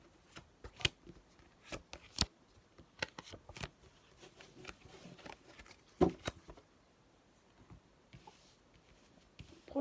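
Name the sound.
oracle cards being spread out on a table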